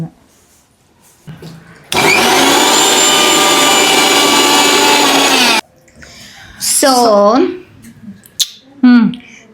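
A mixer grinder whirs loud and steady for several seconds as it grinds sandwich chutney ingredients. It starts and stops abruptly, followed by short rattles and faint voices.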